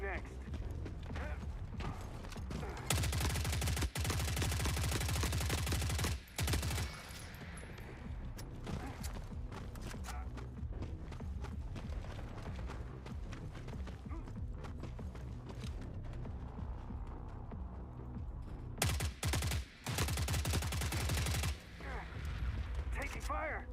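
Gunfire in The Forever Winter, a grim urban battlefield shooter, with dense bursts of shots and mechanical clatter crowding the mix for long, loud stretches, then easing off and coming back in short heavy volleys.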